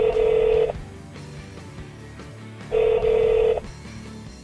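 In a 2013 Lexus, the Bluetooth phone system plays a call ringback tone: two loud, steady electronic rings about two seconds apart, each lasting under a second, over a low background hum.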